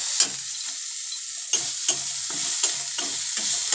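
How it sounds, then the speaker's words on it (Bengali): Chicken fries in a pan while a spatula stirs it in several quick scraping strokes over a soft background sizzle, close and fairly loud. "এটাকে আমরা একটু নেড়ে নেবো যাতে না এটা পুড়ে যায়"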